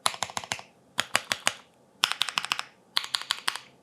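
Keystrokes on a Keychron Q1 Pro mechanical keyboard with tuned stabilizers, typed in four quick bursts of crisp, clacky presses separated by short pauses, close up with no voices.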